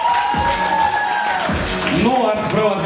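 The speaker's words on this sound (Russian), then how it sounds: "Юрий, ваши аплодисменты!" Audience at a New Year's Eve show in an Odessa concert hall cheers and whoops as a host is introduced, a loud sustained crowd roar with scattered shouts, clapping mixed in, and voices over it.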